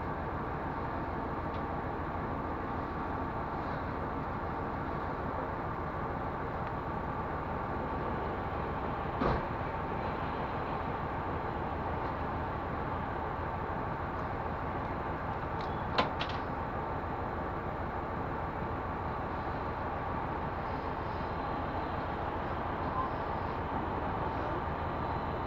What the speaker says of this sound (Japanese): 電車が来たな。